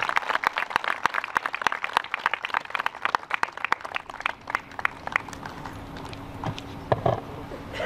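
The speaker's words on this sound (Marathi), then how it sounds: "सर्वांनी टाळ्या वाजवून या पुस्तक प्रकाशनास दाद द्यावी" An audience at a Marathi poetry book launch claps, dense rapid applause that gradually thins and softens, a faint voice speaking beneath it toward the end.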